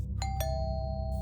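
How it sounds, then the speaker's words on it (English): A doorbell in the horror game Fears to Fathom (Home Alone) rings with a clear two-tone ding-dong, the second chime ringing out and decaying over a low steady background hum. "Ringing the doorbell?"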